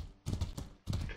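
Horse hooves clip-clopping while riding in the medieval combat video game Mordhau, two quick pairs of faint muffled hoofbeats with no talk.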